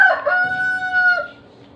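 A native chicken rooster crows once up close, loud and clear, a single drawn-out cock-a-doodle-doo that fades off at the end with no voices.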